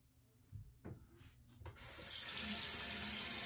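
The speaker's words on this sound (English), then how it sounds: "I'm gonna rinse this beard with some lukewarm water, not too hot" A bathroom tap running lukewarm water to rinse a beard: a few faint knocks and handling sounds, then the faucet opens at close range into a steady, hissing stream that continues to the end.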